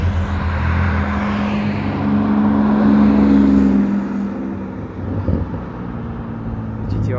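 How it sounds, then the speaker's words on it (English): Porsche GT2RS driving past on a street in Franschhoek, a loud close engine roar that swells to a peak and then fades as it moves away. "there's a GT2RS coming as well"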